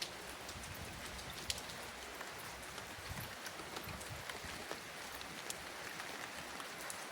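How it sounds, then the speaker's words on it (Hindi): Steady rain patters on a surface, with scattered close drips and taps throughout and no one speaking. "रात से रेगुलर बारिश हो रही है।"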